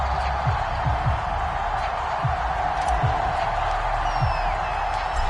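A stadium crowd in an NFL video game, with home fans set for a Week 13 matchup against the Buffalo Bills, gives a continuous, dense roar of cheering that holds steady throughout, with soft low thumps underneath.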